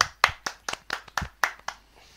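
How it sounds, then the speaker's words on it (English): A small room giving a brief round of clapping for the travelling football supporters, about ten separate hand claps in a quick uneven rhythm, close and fairly clear. "So, round of applause for all the travelling support."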